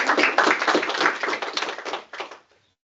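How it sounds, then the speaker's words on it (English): Close, dense applause from a small audience at a machine-learning talk, brisk clapping for about two seconds that thins into a few last claps and then silence. "We applaud here as well for the benefit of you."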